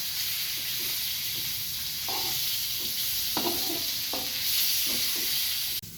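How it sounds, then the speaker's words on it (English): Mustard greens being stirred with a spatula in a hot frying pan while making fried rice: a steady sizzling hiss with several short scraping strokes scattered over it, close and fairly even in loudness, with no talking. "the mustard greens into the pan. and we stir it with spatula."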